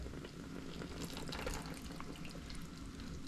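Tap water runs steadily at a sink while being collected for a homemade magneto-hydrodynamic generator experiment, a continuous close hiss and splash with no voices.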